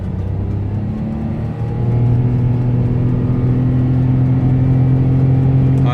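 Daihatsu Move pulling hard in PWR power mode, the engine note stepping up louder after a brief dip and then holding a strong, rising drone from inside the car, with no voices over it.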